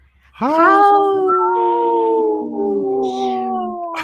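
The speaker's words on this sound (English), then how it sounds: "a cat just howled" A cat gives a single long, loud howl that rises sharply, then wavers and slowly trails off, close and sustained for several seconds, with no talking.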